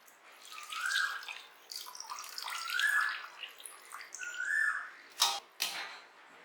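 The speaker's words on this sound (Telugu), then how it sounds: "చూడండి, అంతా బాగా వాష్ చేస్తున్నాం కదా" Water splashes and trickles over pieces of country chicken being washed in a bowl, with running-tap rushes and sloshing handling noises, close up, followed by two sharp knocks near the end; no one speaks.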